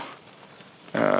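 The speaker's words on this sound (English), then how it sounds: "Oh, and now it's just started raining as well." Rain starts falling during a long bike journey, a faint patter at first, then a sudden loud, dense hiss of rain on surfaces close by.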